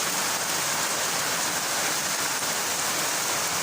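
Heavy rain pours down in a dense, unbroken roar, loud and steady throughout.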